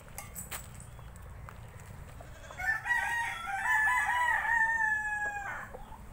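A derby fighting rooster crows one long, loud call close by, preceded by a few sharp clucks over low background noise.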